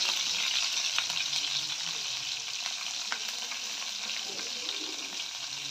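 Cumin seeds and chopped green chilies sizzle steadily in hot oil for a tempering, a continuous dense crackle with small pops throughout and no talking.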